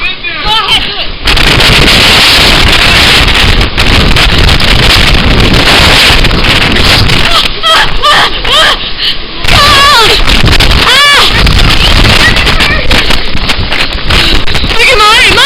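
Fierce blizzard wind roars and buffets the microphone in continuous loud gusts through a tunnel-like gap between snowbanks, with children and adults shouting excitedly over it.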